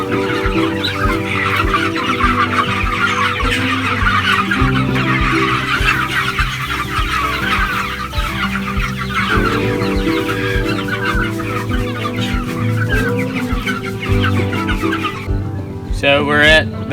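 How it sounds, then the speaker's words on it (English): Laying hens on a family farm cluck and chatter continuously in a busy chorus, close and steady, with a rooster crowing and a person talking over the flock. "So we're at the laying hens now"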